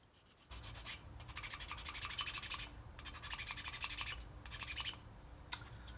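A file and sandpaper working over the painted surface of a Stryfe toy blaster, rhythmic back-and-forth rasping strokes in several close bursts separated by short pauses, no talk.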